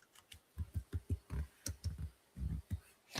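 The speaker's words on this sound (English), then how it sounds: "It's just typing in chat." Rapid, irregular keystrokes on a computer keyboard, a quick run of soft clicks heard close up and alone with no talking over them.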